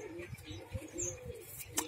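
A newly paired couple of white pigeons coo softly in a short, close burst of low, rolling calls, with a faint chirp near the end.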